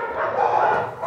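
A dog yips and barks in a continuous, whimpering outburst, close and fairly loud, with voices mixed in.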